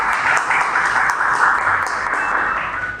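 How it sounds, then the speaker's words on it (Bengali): An audience at a fan meet applauds with dense, continuous clapping. The sound is fairly loud and even, with no talk, and lasts about three seconds. "একটা জোরে থ্যাঙ্কস এবং একটা জোরে হাততালি প্লিজ"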